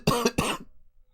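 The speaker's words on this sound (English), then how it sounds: "here I am still coughing in a very loud way." Two harsh, loud coughs in quick succession from one person, close to the microphone, followed by silence.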